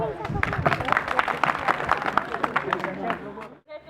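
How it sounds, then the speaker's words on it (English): An audience at an English course end-of-semester ceremony applauds a speaker stepping up, a dense, steady wash of many hands clapping close by that cuts off abruptly near the end. "Please clap for her."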